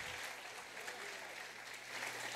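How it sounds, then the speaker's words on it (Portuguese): Faint, steady applause from a church congregation during a sermon, an even wash of clapping with no talk over it. "Você pode aplaudir o nome do Senhor?"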